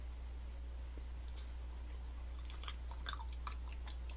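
Soft, close chewing of sticky, chewy surichwi rice cake (tteok), faint wet smacks clustering toward the end over a steady low hum, no talking.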